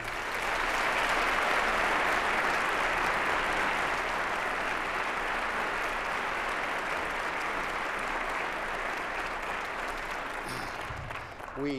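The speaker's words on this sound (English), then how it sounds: "Let's have another round of applause for the Colorado Springs Philharmonic." An audience at the opening ceremony of the 28th National Space Symposium gives the Colorado Springs Philharmonic sustained applause, a loud, full roar of clapping from a large crowd that carries on evenly before tapering slightly at the end.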